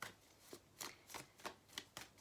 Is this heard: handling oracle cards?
yes